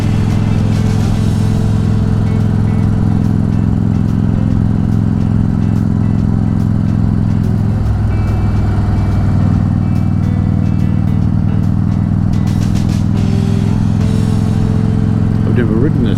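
Motorcycle engine droning steadily throughout a ride through the Omeo Valley in the Victorian high country, loud and close with constant wind rush and a brief shift partway through.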